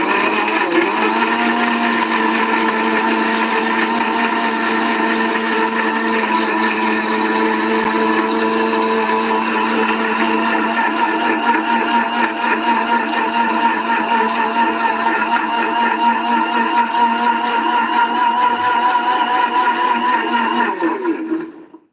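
A blender grinds a juice drink with a loud, steady, high-pitched whir that holds evenly for about twenty seconds, then winds down abruptly at the end.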